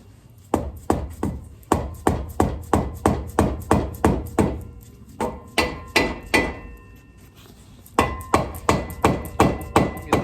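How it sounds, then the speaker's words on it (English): Rapid, loud metal-on-metal hammer strikes hit a tie rod end on a 2000 GMC Sierra pickup to knock it free. About two dozen sharp, close blows come in steady bursts, with a short pause midway. "we just smacked it with a hammer and it came out"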